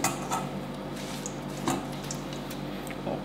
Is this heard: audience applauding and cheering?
no